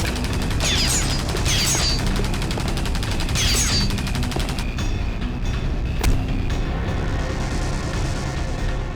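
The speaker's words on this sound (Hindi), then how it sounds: "बहुत हो गई तेरी गोलीबारी।" Rapid bursts of gunfire in a tense shootout scene from a Hindi crime drama, loud and dense at first with sharp cracks and booms, then thinning into scattered single shots.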